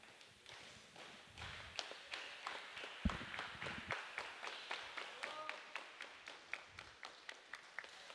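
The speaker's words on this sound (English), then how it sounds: "As we get ready, we are clapping it up." A high school varsity wrestling team claps in unison before a match, a steady rhythmic run of sharp claps rising in pace across several seconds, fairly close with room echo.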